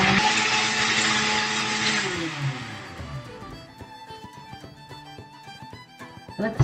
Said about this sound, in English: we're going to blend this on high until everything is well combined